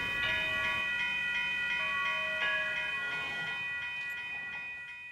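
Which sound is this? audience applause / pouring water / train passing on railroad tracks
train passing on railroad tracks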